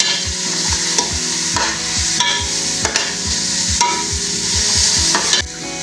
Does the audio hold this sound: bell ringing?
no